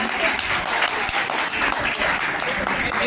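A dense, continuous wash of applause fills a college farewell party hall as a guest is welcomed to the dais, steady and loud throughout, with voices mixed into the crowd noise.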